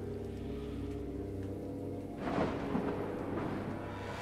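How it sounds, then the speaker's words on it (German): A low rumble of thunder rolls in and swells midway through a thunderstorm in the game Dracula Origin, over a steady quiet ambient drone with faint rain-like hiss. "Es gewittert."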